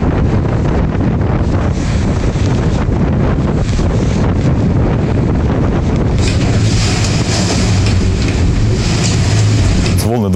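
A small river-sea class motor boat, the Ural, underway in strong wind on Ob Bay, with loud continuous wind buffeting and engine and water rumble filling the whole span.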